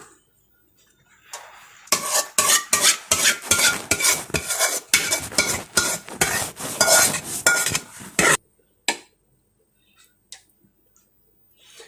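A thick cheese sweet mixture is scraped from a pan onto a ghee-greased plate: a rapid run of close metallic scrapes and clinks lasting about six seconds, then stopping abruptly, with quiet gaps before and after.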